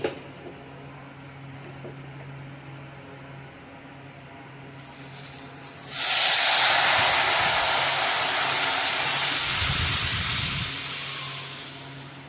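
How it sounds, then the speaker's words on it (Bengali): Mung dal is poured into hot tempering oil, setting off a sudden loud, sustained sizzle that swells and then holds as a broad hiss after a few seconds of quiet. "এবার ডালটা ঢেলে দিই"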